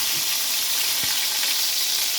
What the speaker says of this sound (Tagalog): Tapos, back to pagpiprito ng talong.